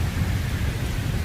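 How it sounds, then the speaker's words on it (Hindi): Video game rain and thunder in GTA 5: steady rain hisses with a low, rolling rumble of thunder underneath, a brief stretch of storm noise with no voices. "हवाएं चल रही है और बारिश भी हो रही है। बादल भी गरज रहा है।"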